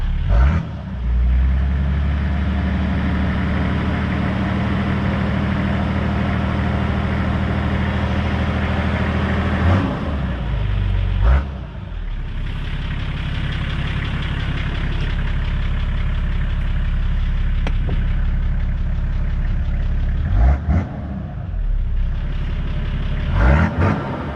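A Nissan Patrol TD42 diesel engine, warm, idles with a steady heavy rumble, broken by a few quick revs that briefly rise and drop back, close and loud.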